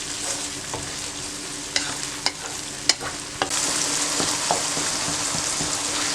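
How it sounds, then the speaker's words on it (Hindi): Garlic and spice masala frying in a pot for chickpea pulao, a steady sizzle with scattered clinks and scrapes of a stirring spoon, growing louder and hissier midway. "पाँच मिनट के लिए मैंने फ्राई किया मसाले को"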